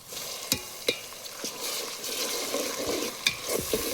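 Tomatoes tossed into frying onions sizzle steadily in the pan for a fish pulusu, with several sharp spoon scrapes and knocks at irregular intervals and no talking.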